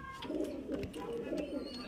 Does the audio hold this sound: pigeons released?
yes